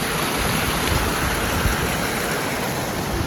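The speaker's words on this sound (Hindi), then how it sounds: "ये देखो बर्फ का पानी पिघल के आ रहा है यहाँ से।" Near Vasudhara waterfall above Mana village, a stream of melting snow rushes loudly and steadily, with a dense, unbroken roar of flowing water and some wind buffeting on the microphone.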